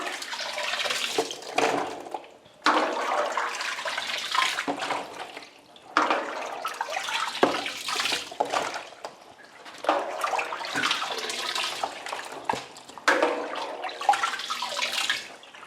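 Sheep's milk curds and whey poured into cheese moulds, splashing and trickling liquid in several separate pours of a couple of seconds each, close by with short pauses between.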